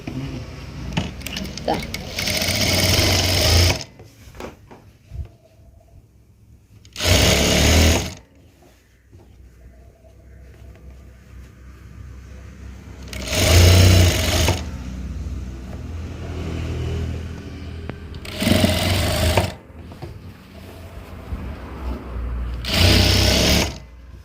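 A sewing machine stitches a sleeve in several loud, close bursts of rapid whirring. Quieter pauses fall between the runs, and a voice speaks softly in the gaps.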